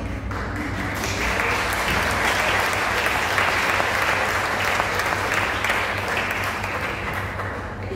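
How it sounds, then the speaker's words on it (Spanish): Sustained, dense applause from a large conference audience rolls on evenly for the whole stretch, loud and enveloping with no speech over it. "un aplauso muy grande para el Padre Astolfo."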